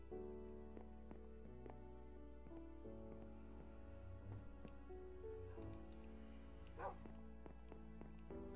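A tame dog in the Minecraft video game whimpers and gives short yips several times, moderately quiet, under steady game music with no talking.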